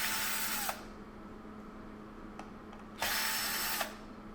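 A power screwdriver backing screws out of a Halo Rover hoverboard battery case, with two close whirring bursts of about a second each separated by a quiet pause with a faint click, no talking.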